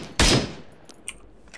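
A single loud, sharp report from a marksman rifle in Arma 3, followed by a decaying echo and faint mechanical clicks afterward.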